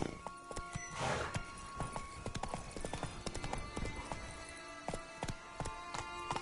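Hoofbeats of Roach, the horse in The Witcher 3 video game, clatter in a fast, steady galloping rhythm, close and loud over game ambience, with a brief snort or whinny early on.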